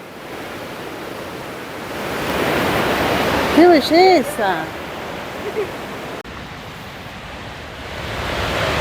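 A river and the Salto de la Princesa waterfall in Chile give a steady, broad rush of water that fills the whole clip, with a voice speaking briefly over it partway through.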